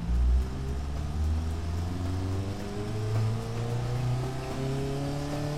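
A video game car engine revs after a fuel injection change, several rising, harmonic engine sweeps climbing one after another, loud and close with no talk.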